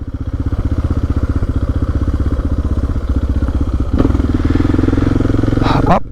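Motorcycle ridden along a slippery stretch of road near Dingle, its engine chugging loud and close in a rapid regular beat, with a brief clattering thump partway through before the throttle rises toward the end.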